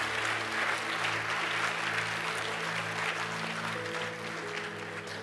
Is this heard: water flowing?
no